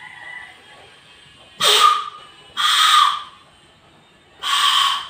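Homemade whistle made from rubber tubing gives three short, loud, raspy blasts spaced about a second apart, each lasting under a second, close up with no talk.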